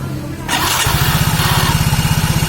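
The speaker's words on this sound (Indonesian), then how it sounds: "Starter lagi." A Yamaha Soul GT motorcycle's electric starter cranks for about half a second, then the engine catches and settles into a steady, pulsing idle, loud and close.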